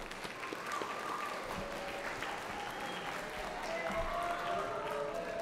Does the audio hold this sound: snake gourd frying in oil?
no